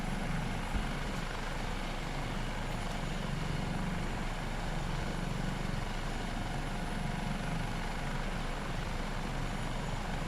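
HH-65A Dolphin helicopter in Microsoft Flight Simulator 2024, a steady, dense turbine and rotor roar that holds at an even level throughout with no voices.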